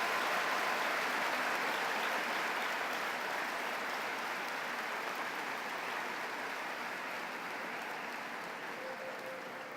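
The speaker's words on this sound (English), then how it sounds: "Let's give all our honored guests a round of applause." Steady, dense applause from a large audience at a 2016 high school commencement, a continuous wash of clapping that holds at an even level and fades slightly near the end.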